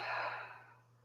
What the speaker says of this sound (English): And just find a nice natural rhythm of your breath.